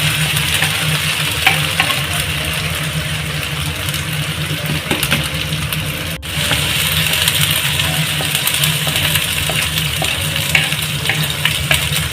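Ginger and garlic frying with onions in a pan, a continuous close sizzle with intermittent stirring scrapes and clinks, no talking over it.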